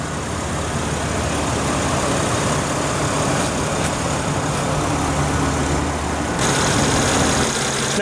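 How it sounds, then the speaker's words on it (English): A 2014 Mercedes-Benz E350 with a 3.5-liter direct-injection V6 idles smoothly and quietly, a low, even hum that holds steady throughout with no voices. "Pretty silent motor, I have to say."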